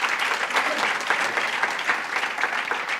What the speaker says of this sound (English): Let's get some more applause